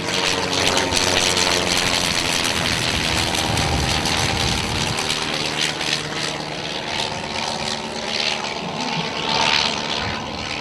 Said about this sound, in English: the sound of the aircraft yet again highlights just how different the various rotary engines sound